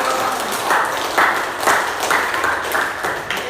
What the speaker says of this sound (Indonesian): Ayo berikan tepuk stadion.